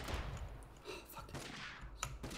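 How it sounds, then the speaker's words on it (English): Gunfire in the battle royale game Totally Accurate Battlegrounds, a dense stretch of game shots and impacts with a sharp crack near the end, mixed with players talking over it. "He's shooting at us again."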